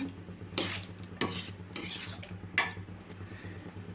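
Thick Bombay Karachi halwa is stirred in a pan, with a spoon scraping and clanking against the metal in several distinct strokes over a low background hiss, close and alone.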